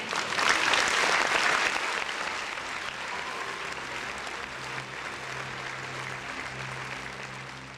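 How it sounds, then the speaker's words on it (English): A burst of applause rises at the start and tapers into a steady, softer patter of clapping that carries on to the end. "Round of applause for the folks in the chat."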